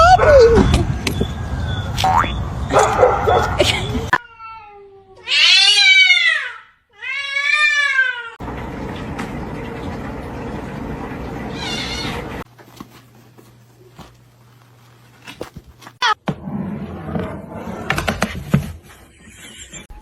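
Several cat meows, including two loud rising and falling calls in quick succession, with typing, clatter and people talking around them.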